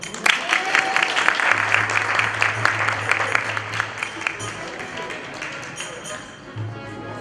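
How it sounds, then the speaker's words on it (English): Clapping from an audience at a devotional Bhagavat gathering, fairly dense at first and then fading, with a low steady hum and some voices underneath. "Everybody's clapping"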